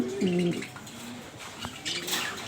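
Pigeons of King, Bombay, Satin and Lakka breeds coo nearby, with a clear low throaty coo at the start and softer cooing and faint chirps afterward.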